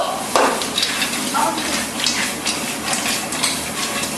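Seafood and vegetables for Nagasaki white jjamppong stir-fry in a pan, with continuous sizzling broken by metallic scrapes and clanks of the utensil and pan as they are tossed.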